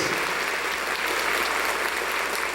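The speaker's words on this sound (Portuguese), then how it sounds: "Uma salva de palmas a Jesus, forte" A congregation in a church broadcast studio claps strongly for Jesus after the Gospel reading, a dense, even, continuous applause at steady loudness throughout.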